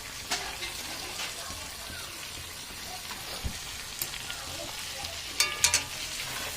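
Meat sautés with whipped yogurt in a pan, a continuous soft sizzle with occasional light scrapes and a couple of sharper metallic clinks near the end.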